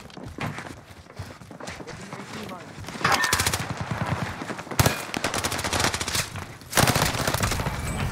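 Gunfire in Warzone on Rebirth Island: rapid bursts of automatic fire, close and loud, in long rattling strings with a few heavier single shots, continuing nearly throughout.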